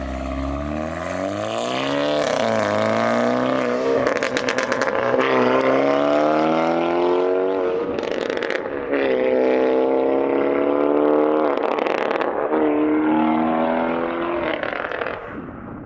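A Hyundai Elantra N fitted with an Xforce downpipe roars loudly as it revs and accelerates past, the engine note rising and shifting through gears with a raspy, continuous exhaust growl.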